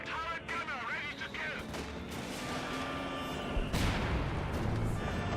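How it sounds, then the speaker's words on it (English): Artillery fire booms in a World War II real-time strategy battle, a heavy low impact landing near the end amid continuous gunfire and combat noise, with a commentator speaking over it. "Artillery or major artillery?"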